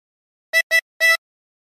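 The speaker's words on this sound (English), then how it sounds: "For phrase 9, blow into 15 three times." Tremolo harmonica, three short blown notes on hole 15, close and clear, with the third slightly longer, then silence.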